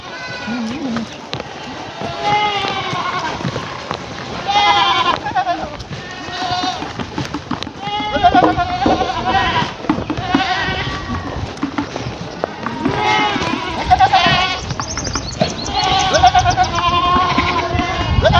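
Goats on a rice-field-turned-grass goat farm in Ubon Ratchathani, Thailand, bleat repeatedly and overlap one another at close range, a busy continuous chorus of varied calls alongside some nearby voices.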